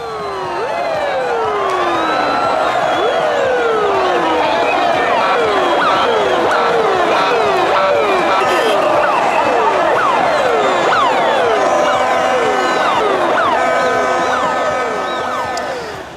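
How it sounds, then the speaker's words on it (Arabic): Dense crowd of Algerian football fans celebrating a title victory in the streets of Algiers, chanting and cheering loudly and continuously, with rising whistles and horn-like tones layered over the roar. "وسط حشود المشجعين اللي حلوا بالأعلام الجزائرية ومرددين هتافات النصر"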